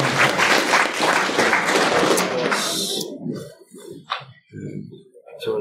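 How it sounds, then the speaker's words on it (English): An audience at a committee's closing remarks gives a round of applause for the placed winners, loud dense clapping for about three seconds before it thins out and a few voices take over. "Round of applause to them all"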